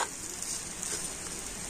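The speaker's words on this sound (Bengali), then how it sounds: "তো চাট মশলা ধনেপাতা দিয়ে আবার কিন্তু আলুটা খুব ভালো করে নাড়াচাড়া করে নিচ্ছে।" Potato filling with chaat masala and chopped coriander being stirred in a pan, a soft, steady sizzle with faint scraping, close and quiet with no talking.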